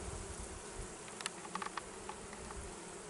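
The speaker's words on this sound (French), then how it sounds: "Il y a pas mal d'abeilles." Bees fly around a Spanish-style Layens beehive in a natural-built apiary, a steady close buzzing drone with a few individual bees zipping past the microphone in brief louder passes.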